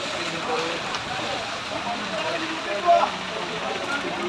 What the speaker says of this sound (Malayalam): ഒരു രക്ഷയില്ലാത്ത മഴയാണ്.